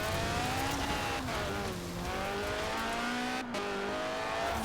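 A Lotus race car in a racing video game revs hard and loud, its engine note rising and dipping through gear changes with a brief lift partway through, a steady close roar with no voices over it.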